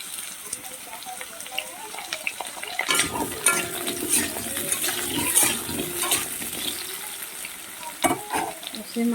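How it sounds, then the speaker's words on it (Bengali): Potatoes fry in a small amount of oil in a pan, a steady sizzle with scraping and stirring clatter that swells after a few seconds, with a few sharp utensil knocks. "আলুগুলোকে ভেজে নেব"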